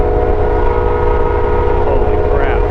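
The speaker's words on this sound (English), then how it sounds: "There he is. Freaking train." A freight train passes on railroad tracks with a loud, constant low rumble and sustained horn-like tones running through it, heard close by without a break.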